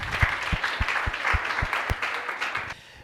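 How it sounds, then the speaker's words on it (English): An audience at a high tea book discussion applauds with a brisk, even run of claps. It holds steady for a few seconds before tapering off. "Warm round of an applause."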